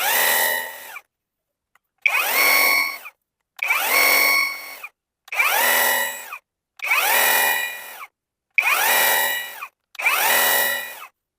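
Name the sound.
Vitals Master AM 1860n3 cordless pressure washer spraying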